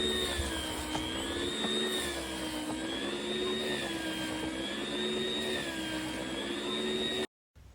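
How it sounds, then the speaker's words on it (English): A meat slicer whirs steadily as it cuts through a head of cabbage, producing a continuous motor hum with a faintly wavering pitch before stopping abruptly at the end. "we're using our meat slicer to slice up the cabbage"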